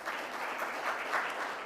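Audience applause for Mr. Ellis at the launch of Jamaica's National Multidimensional Poverty Index, a steady dense wash of clapping from a crowd held evenly throughout the short stretch.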